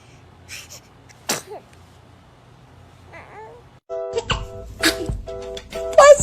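Several small sneezes from babies, short sharp bursts spaced apart in a quiet indoor room, the later ones louder and closer with bright chime-like music and some soft background movement between them.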